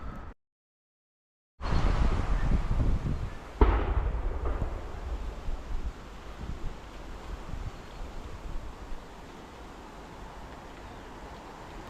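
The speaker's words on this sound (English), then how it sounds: "I think they were just gunshots." A few sharp distant gunshots echo outdoors over steady wind and rustling on Anzac Day in Oamaru, New Zealand, with one louder crack standing out early on.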